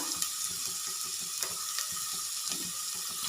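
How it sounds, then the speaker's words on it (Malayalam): Finely chopped ginger sautés in oil for puli inji, with a soft continuous sizzle broken by frequent small stirring scrapes. It is fairly quiet throughout. "ഇഞ്ചി ഒരു ബ്രൗൺ കളർ ആവുന്നത് വരെ നമുക്കിങ്ങനെ വഴറ്റി കൊടുക്കണം"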